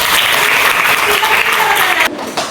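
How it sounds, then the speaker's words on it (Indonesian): A classroom of students applauds a classmate named Nasita, a loud, dense burst of clapping that runs steadily before dropping off abruptly near the end. "Tepuk tangan untuk Nasita."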